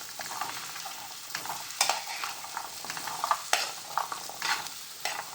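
Grated green coconut roasts in ghee in a pan over a medium flame, giving a steady soft sizzle with repeated scraping and stirring strokes of a spoon, close and moderately loud, with no speech.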